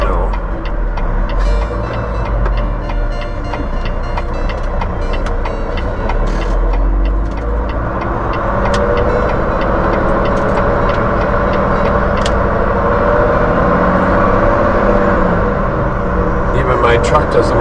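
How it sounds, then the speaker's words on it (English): A truck's engine rumbles and labours as it struggles to change gears. The loud, continuous drone holds throughout the clip, with a voice talking over it. "My truck doesn't want to change gears"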